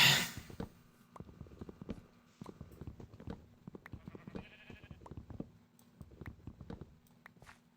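Sheep in the video game Minecraft bleat several times, mid-distance, amid a steady run of soft in-game footsteps and clip-clopping steps.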